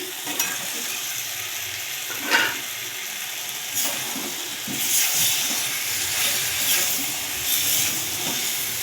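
Fried potatoes are stirred into meat curry cooking in a pan with spices, giving a steady close sizzle with scattered scraping stir strokes and a hissing swell near the end.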